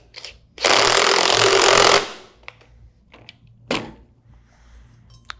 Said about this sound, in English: Install your impeller nut. Tighten with your impact.